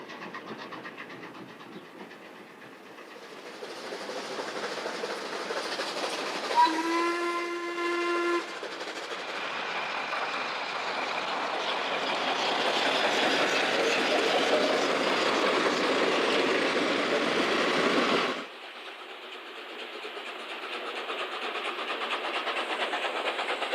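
A steam train rumbles steadily past on the Nord line near Le Landy, its steam whistle sounding clearly for a couple of seconds mid-passage before the noise drops away abruptly near the end.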